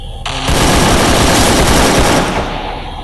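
Gunfire from the Free Fire Lite mobile game, a loud, dense burst of rapid shots lasting about two seconds before trailing off. No one speaks.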